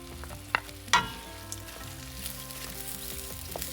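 Thin-sliced ginger and kanthari chillies sautéing in oil for a Kerala-style pickle give off a steady low sizzle, with two sharper clinks of a spoon against the pan early on and no voices.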